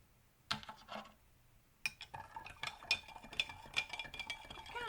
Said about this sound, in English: The trick here is that you stir it up really, really good.